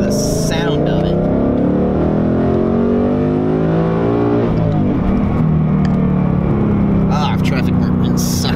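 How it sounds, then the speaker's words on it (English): A Ford Mustang's engine revs loudly and close, a deep continuous roar with rising and falling pitch swells, the throttle dipping briefly near the middle before building again, no talk over it. "Definitely love the sound of these cars."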